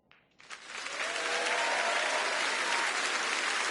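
Applause from a crowd in The Grand Tour video game on PS4 swells in after a brief quiet start and holds steady and loud, a dense wash of clapping.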